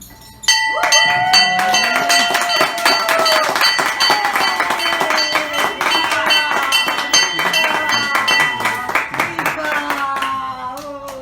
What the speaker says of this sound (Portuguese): O sino todo é seu Lázaro, pode tocar!